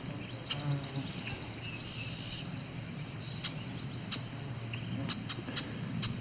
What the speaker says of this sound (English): We've got an annoyed female red-winged blackbird calling here.